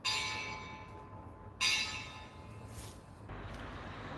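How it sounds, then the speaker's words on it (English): A bell rings at sunset during a Buddhist dharma talk, struck twice with bright metallic onsets that ring out and decay slowly, faint and alone over quiet background noise. "as the bell rings"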